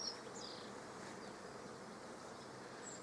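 Honeybees hum steadily around an open beehive, a soft continuous buzz with faint individual bees passing near and away.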